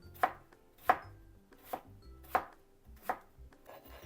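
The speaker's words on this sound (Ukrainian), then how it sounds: "Нарізаю тонкими смужками огірок." A knife chops down onto a cutting board five times at uneven intervals, slicing cucumber into thin strips, each a crisp close thud with quiet pauses between.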